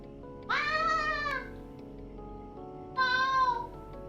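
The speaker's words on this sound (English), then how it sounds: "My cat is meowing." Two drawn-out cat meows, close and clear, about two seconds apart with quiet between them.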